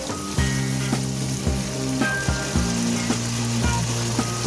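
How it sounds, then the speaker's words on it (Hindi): Masala with chopped chillies fries in a pan, a close, steady sizzle with light stirring scrapes, joined by a repeating tonal hum that keeps recurring in a regular pattern, with no voices. "तो 5-10 मिनट तक हम लोग मसाले को अच्छे से भूनेंगे"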